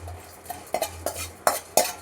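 Whole cinnamon and coriander seeds dry roasting in a pan, stirred with a spoon: several sharp scraping and clinking strokes spaced about a quarter to half second apart, close and fairly quiet over a low steady hum, no talking.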